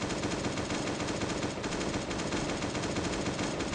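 An AK machine gun fires in a sustained rapid burst in a video game, a dense, steady rattle filling the whole stretch without a break.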